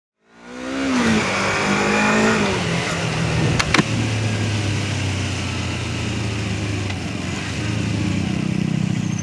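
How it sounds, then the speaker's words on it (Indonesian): A 2021 Yamaha MT-25 motorcycle pulls away and is ridden, its engine note rising then holding in a loud, steady drone with shifting pitch and a brief clatter partway through. "Nah ini gue jadi udah nyetir motoran"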